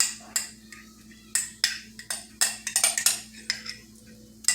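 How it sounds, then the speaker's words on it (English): A utensil scrapes and clinks against a pan while Cheez Whiz and queso are stirred in with Philly steak filling, giving a series of sharp metallic knocks in an uneven rhythm, close and fairly loud, with no talk. "I'm actually going to add the Cheez Whiz mixture with the queso to the pan and incorporate it all together"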